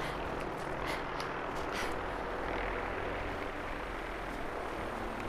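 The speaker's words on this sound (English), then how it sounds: "There's a chopper this way." A helicopter in Fallout 4 drones steadily throughout, a constant low rotor and engine rumble at moderate distance with no voices.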